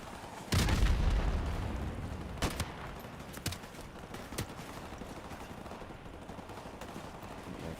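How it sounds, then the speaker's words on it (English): Two grenades explode in a video game, a loud close blast followed by a second sharper detonation, then scattered gunfire cracks and distant booms over a low rumbling battlefield. "Oh no, 2 grenades."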